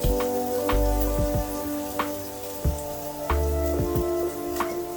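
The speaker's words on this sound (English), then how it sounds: "So we're going to cook the onions through until they're nice and clear." Onions fry in a pan for curried eggplant, a steady loud sizzle and crackle running throughout, with intermittent clicks and scrapes of stirring near the pan.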